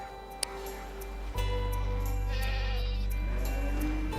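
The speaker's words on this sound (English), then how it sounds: "The goats need fed." Goats bleat on a Northern Ireland farm, with a sharp close call early on, then a sustained loud, wavering bleat held to the end, with no talk over it.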